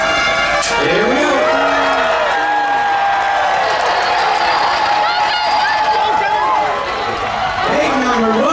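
Crowd at a pig race at the State Fair of Texas, cheering, whooping and shouting continuously for several seconds, loud and close, with excited voices rising and falling throughout.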